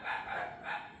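Dogs barking in the background late at night, a steady distant chorus of barks with two louder swells, faint and continuous across the second.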